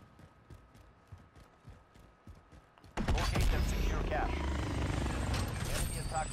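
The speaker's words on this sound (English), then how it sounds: "Chopper is in the AO." Call of Duty game audio: soft rhythmic thumps give way to a sudden loud, dense roar of a helicopter, close and steady for the remaining seconds.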